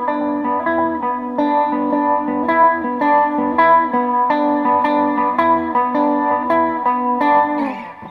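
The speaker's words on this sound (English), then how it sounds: "Absolutely love the TR7 on Univibe." Univibe modulation on a Victory V40H Duchess guitar amp through a TR7 pedal, sustained guitar chords with a gentle, wavering pulse that runs steadily throughout, loud and close, with no talking.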